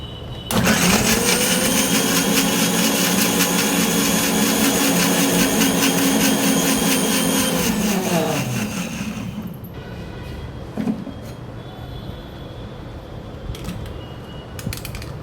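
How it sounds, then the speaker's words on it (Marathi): A mixer grinder grinding coconut with water whirs loudly and steadily for about eight seconds, then winds down and stops, leaving quiet clatter and faint room noise. "झाकण लावून हे मिक्सरला लावून फिरून घेऊया."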